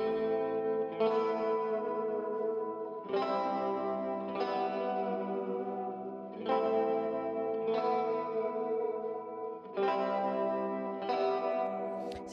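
Electric guitar run through a spacey effects plugin, strummed chords ringing out in separate swells every couple of seconds with wide chorus, echo and reverb tails trailing off, moderately quiet, no talking.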